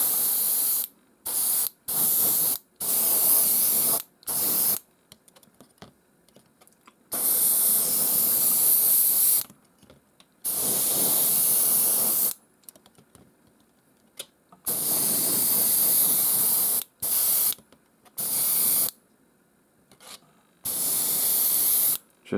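Airbrush spraying paint onto a terrain model, loud close hissing bursts of varying length separated by short silences.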